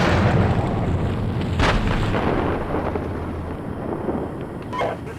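Heavy gunfire and explosions in mechanized infantry combat boom and crack at close and middle distance, with deep rumbling blasts and sharp reports overlapping in a dense barrage.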